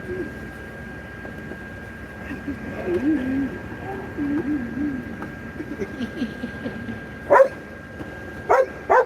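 A dog barks at a person outdoors on a windy, cold day. A few sharp, loud barks come near the end, after murmured talking and light background noise.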